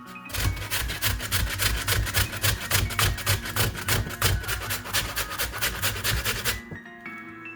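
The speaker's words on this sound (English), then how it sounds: "Grate the cassava nicely into the Pyrex dish." Cassava is grated by hand on a small grater into a Pyrex dish, producing a rapid, rhythmic rasping scrape, stroke after stroke, loud and close, before stopping near the end.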